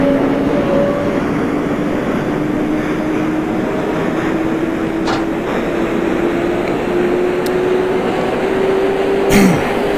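New York City subway L train on the BMT 14th Street line to Rockaway Parkway, as simulated in OpenBVE: a steady, loud rumbling motor hum with a slowly rising whine, running continuously, with a brief clank near the end.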